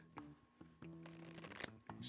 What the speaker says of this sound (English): let's do a complete breakdown of the push-through shuffle